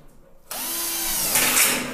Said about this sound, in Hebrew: עכשיו אני מוכן לקידוח. לוקח את המקדחה שלי, מקדח 6.